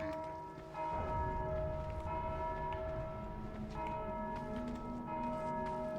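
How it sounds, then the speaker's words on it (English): Several bells ring together in a video game, resonant sustained tolls layered over one another and swelling after a brief quieter opening, continuing steadily without speech. "I hear a lot of bells ringing."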